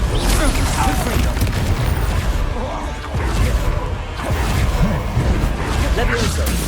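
Confringo spell blasts in the wizarding game Hogwarts Legacy burst repeatedly amid a dense, loud clatter of combat crashes and whooshes, with voices talking over the chaotic battle noise throughout.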